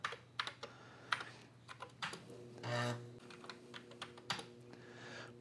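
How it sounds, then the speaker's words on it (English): Keys clatter on a Commodore 128D keyboard during a restoration, a quick uneven run of close clicks over a faint electrical hum. "Keyboard seems to be working."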